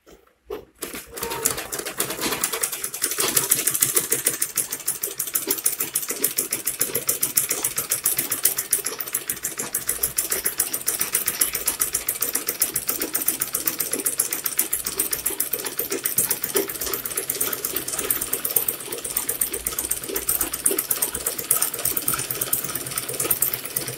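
Sewing machine stitching Ankara fabric for a flat cap, running steadily and close for a long stretch with a dense, continuous rapid clatter after a brief start.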